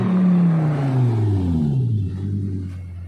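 A Lamborghini Gallardo rolls in, its engine rumbling loudly up close, pitch sweeping downward as it eases off over a few seconds, then settling into a lower steady drone.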